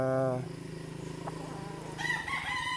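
Young roosters, stags raised as backyard gamefowl, crow loudly at close range, with one long harmonic call at the start and another higher crow breaking in near the end over faint background clucking.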